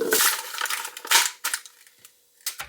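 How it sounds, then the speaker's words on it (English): Knife dicing rinsed, cleaned asparagus on a cutting board: a quick run of crisp chopping cuts, then a few sparse, separate chops with short pauses between, close and fairly quiet. "And now we're gonna dice up our rinsed and cleaned asparagus."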